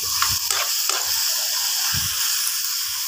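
Water poured into a hot pan of pancit canton noodles and ingredients, producing a loud steady sizzle and steam hiss with a few stirring scrapes and knocks throughout, no talking.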